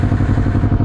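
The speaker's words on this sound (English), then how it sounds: "They're all about to hear my really fucked exhaust, which is really" Kawasaki ER6F motorcycle with a damaged exhaust, a loud, steady, rough engine note with a low throbbing pulse and rattly clatter, close by.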